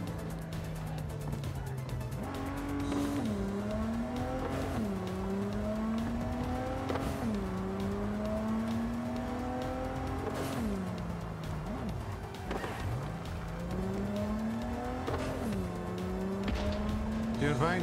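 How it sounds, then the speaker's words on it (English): Car driving in Cyberpunk 2077, a steady engine drone rising and falling as it shifts through gears, with revs climbing repeatedly and occasional tire noise, while someone talks over it. "but I kind of wanted to go driving a bit"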